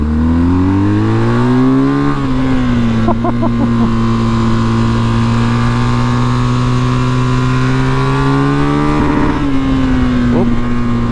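BMW GS 1250 motorcycle engine held high against the rev limiter, a loud, steady harmonic drone with a brief stutter around the nine-second mark, heard up close throughout with no talking.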